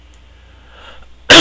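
A single sharp, loud cough from someone recovering from the flu bursts out abruptly after a near-silent moment.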